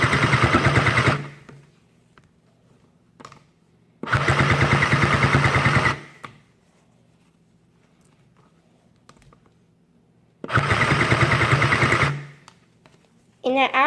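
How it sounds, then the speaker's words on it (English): A Sew Cool toy sewing machine stitching fabric in three loud, steady whirring bursts of about two seconds each, separated by quiet pauses. "You want to begin stitching and sewing your piece."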